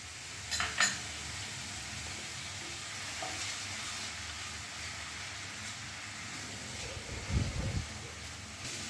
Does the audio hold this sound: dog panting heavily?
no